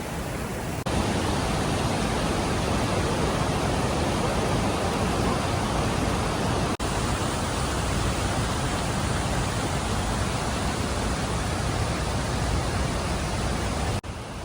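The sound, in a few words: waterfall at a river source in Guatemala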